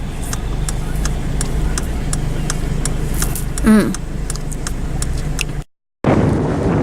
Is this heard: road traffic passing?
yes